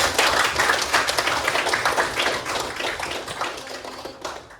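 A classroom group claps together to start a guidance lesson, a dense burst of hand clapping from nearby students that fades out over a few seconds.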